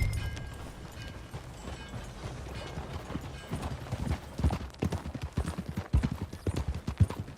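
Steady galloping hoofbeats of a horse being ridden in Red Dead Redemption 2, a rhythmic clip-clop that grows louder and heavier toward the end.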